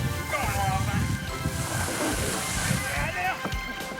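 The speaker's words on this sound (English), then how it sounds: "It's a real smooth ride. It just glides across the water," An RC boat glides across open water, with steady sloshing, wash and wind noise close by.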